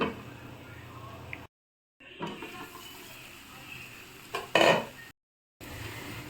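A lid drops onto a pan of bitter gourd frying in oil with a brief metallic clink, set against a steady sizzle broken by short gaps of silence.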